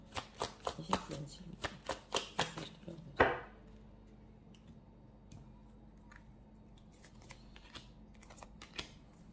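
Tarot cards laid down on a surface in a rapid run of crisp taps and flicks ending in one sharper slap, followed by near silence with a few faint clicks.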